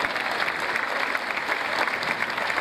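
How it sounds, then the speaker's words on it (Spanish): A large crowd applauds continuously, a dense, even wash of clapping heard from within the audience. "mirá, un aplauso grande"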